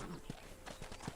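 Horse hooves clip-clop in Red Dead Redemption, a few soft uneven thuds over a brief stretch amid background noise.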